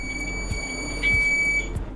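A digital multimeter in continuity mode gives a steady high-pitched electronic tone when its two probes touch. A single sustained beep sounds close and clear over light background noise.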